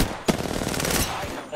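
Rapid automatic gunfire from the video game Apex Legends crackles in a sharp opening shot and then a sustained burst of fast, tightly spaced rounds that cuts off abruptly.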